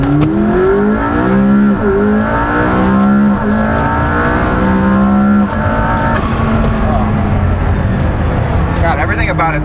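A 2015 McLaren P1 hypercar accelerates from inside the cabin. Its loud engine roar climbs in pitch and drops back several times as it runs through the gears, with voices talking over it.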